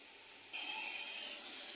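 Hot water poured into a pan of ginger, setting off a sudden loud steamy hiss that jumps in halfway through and then holds steady to the end, with no talking.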